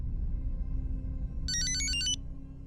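A telephone rings in a short, bright trill burst lasting under a second, alone against a low steady room hum in an indoor office setting.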